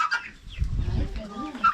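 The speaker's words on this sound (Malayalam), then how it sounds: "2 കൂട്ടിൽ നിറച്ച് കോഴിയാ" Chickens on a farm, packed in two coops, cluck briefly up close while grain is scattered for them to peck, with a low rumble and a voice talking alongside.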